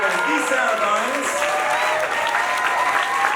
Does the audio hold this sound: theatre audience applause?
yes